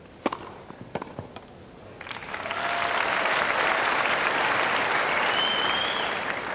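Spectators at a Wimbledon men's third-round tennis match break into applause after a few scattered early claps, then hold a loud, sustained wall of clapping from a large crowd.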